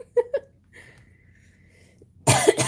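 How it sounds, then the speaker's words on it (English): A few short coughs near the start, then a quiet stretch with a faint tone, ending in a louder burst of harsh coughing up close. "Excuse me, I don't mean to cough in your ear."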